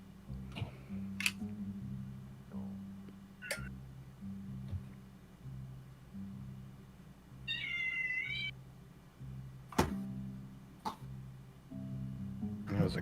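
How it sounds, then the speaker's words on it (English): A cat meows once, briefly and fairly faint, over a steady low hum and scattered clicks and taps, heard on a Kitten Academy live stream. "There was a cat"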